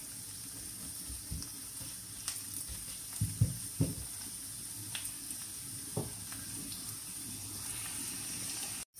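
Steady sizzling of onion and carrot frying in a pan, with occasional clinks and stirring taps, continuous throughout and close by.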